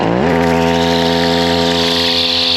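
A Stihl FS70R string trimmer with a long cutting line revs up quickly and then holds a loud, steady, high-pitched whine at full throttle, close by and alone.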